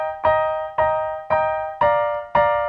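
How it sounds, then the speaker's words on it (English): Piano repeats one chord five times in steady eighth notes for a song, each strike ringing out smoothly toward the next, close and clear with no talking. "As opposed to legato, which would sound like this."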